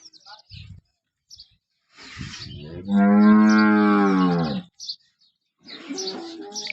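A dairy cow in a cattle sale yard in Banaskantha, Gujarat, gives one loud, long, close moo, with scattered bird chirps and short noises around it.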